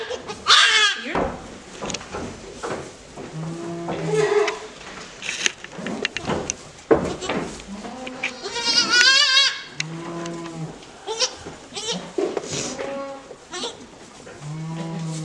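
A young goat bleats repeatedly in high, wavering cries, nearby among other farm animals, with occasional lower calls in the background.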